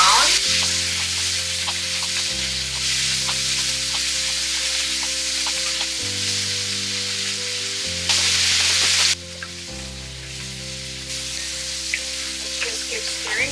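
Cajun sausage sizzles and crackles in a skillet as it is sautéed and stirred, a dense steady frying hiss with occasional scraping stirs, under a continuous background of layered tones.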